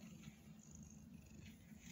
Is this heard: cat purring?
yes